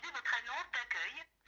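A phone call plays through the tiny speaker of a U8 smartwatch, producing a tinny, crackly, band-limited voice that runs in choppy bursts before cutting off briefly.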